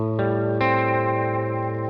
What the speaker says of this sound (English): if I press the button here, we can change the modulation rate